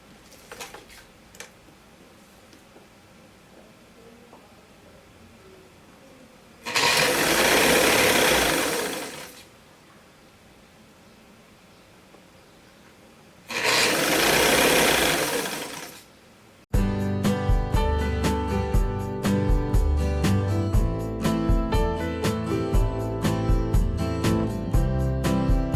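A home sewing machine stitching the hem of a summer sun dress, two loud bursts of fast whirring stitching separated by quiet, followed by music filling the rest.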